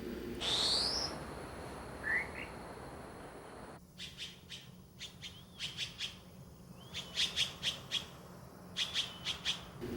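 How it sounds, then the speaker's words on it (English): Forest birds call in the distance on Lion's Head Mountain: a few squawks and whistled notes, then repeated rapid chirping bursts over a quiet background hum. "Insect sounds and bird songs tell of rich ecological resources."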